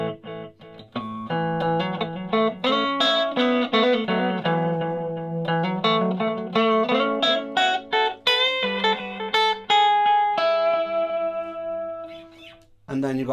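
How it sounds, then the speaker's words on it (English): Electric guitar through a tiny micro guitar amp with its delay effect engaged, played as a string of bright picked notes and chords whose repeats trail after each attack, loud and close with no talking. "delay."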